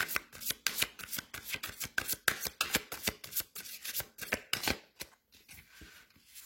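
Rapid riffling of a tarot card deck, a quick series of crisp papery flutters and snaps in close succession, nearby and fairly loud, with no talking.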